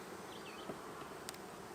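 Agitated honey bees buzz around an opened beehive while honey frames are handled, a faint, brief hum of wings drifting past close by.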